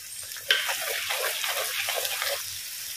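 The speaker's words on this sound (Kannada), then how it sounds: "ಹೀಗೆ ಎಣ್ಣೆಯಲ್ಲಿ ಬೆಂದಿದೆ." Mackerel pieces frying in hot oil with garlic and ginger, a steady close crackling sizzle that holds on for about three seconds, sparked by one sharper pop near the beginning, with nobody speaking.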